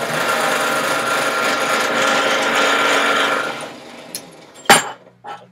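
A close electric drill whirs steadily for several seconds, then stops, followed by a few sharp clicks and knocks as the loose drill bit keeps falling out.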